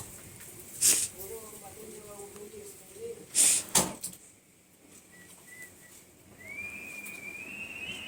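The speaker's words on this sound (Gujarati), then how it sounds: "પવન તો જો સીટી મારે" Wind whistling through a village during a Krishna Janmashtami celebration in Vatva, a thin, faint, rising tone in the quiet gaps between sharp knocks and bursts of noise.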